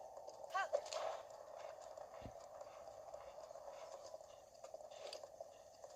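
A horse walks with soft clip-clopping hooves in the Zelda Breath of the Wild video game, faint and steady beneath a low game music bed.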